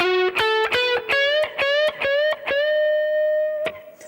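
A distorted electric rock guitar solo continues with a quick run of repeated picked notes, then settles into a long sustained note before a last accent; close, loud and unaccompanied.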